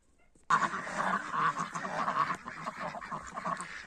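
Hens and a rooster in a backyard flock break into loud, busy squawking and clucking after a quiet start, the calls overlapping near the microphone for several seconds without speech.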